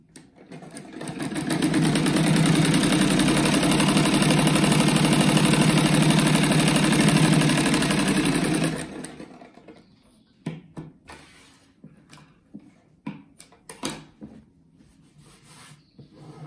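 A sewing machine runs steadily for about eight seconds, stitching fabric for a kite-themed rug, with a loud, dense whirring drone before it stops and leaves scattered handling clicks and rustles.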